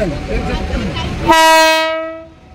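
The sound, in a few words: train arriving at the platform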